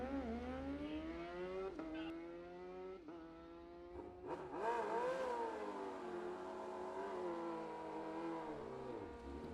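A drag racing motorcycle makes a timed run at a test-and-tune event, its engine screaming up through a series of rising gear pulls with brief shift breaks, loud and close before fading as it heads downtrack.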